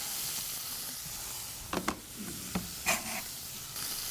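Onions seasoned with salt and pepper sweat in a pan for beef Wellington, making a soft steady hiss with a few brief clinks and scrapes of stirring near the middle, and no voices.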